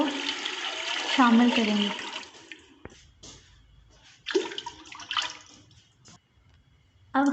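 Water pours into a cooking pot of roasted masala for an aloo and chana dal curry, a steady splashing rush heard under a voice that talks over it.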